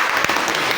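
Brief burst of applause from a secondary school classroom (grade XI) at the close of a group presentation, a short dense patter of hands lasting under a second.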